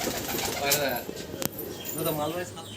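Pigeons in a loft give low, repeated coos with a flutter of movement and a sharp knock partway through, while a person talks over the birds.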